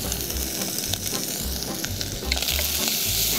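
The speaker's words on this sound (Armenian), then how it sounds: "չարունակում ենք տապակել" Chopped onion and ginger sizzle and crackle steadily in a hot pan, a close, continuous frying hiss with occasional stirring scrapes and no voices.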